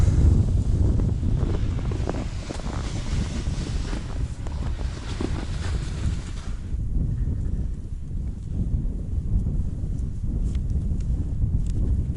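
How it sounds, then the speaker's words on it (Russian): Steady wind buffeting the microphone outdoors on early-season ice while pike fishing with tip-ups, a continuous low rumble that eases slightly partway through, with no talking. "Ветрено, ребят, но тепло."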